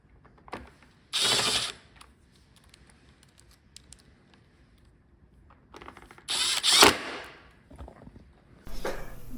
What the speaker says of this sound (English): Put in my screws back.